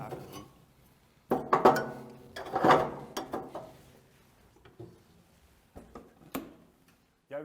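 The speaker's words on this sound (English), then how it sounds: "I start by scraping the ash into the ash drawer." Metal tools scrape and clink inside an Aduro Hybrid wood and pellet stove as ash is pushed into the ash drawer, in several short close bursts separated by quiet pauses.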